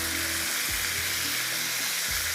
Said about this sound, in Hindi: अब बस इसको इंतज़ार करेंगे फ्राई हो, थोड़ा से गल जाए